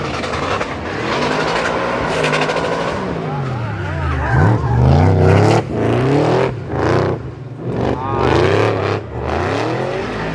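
Drift cars battling at an event skid with loud, squealing tires and revving engines that rise and fall in bursts, close and intense, with a voice talking over the action.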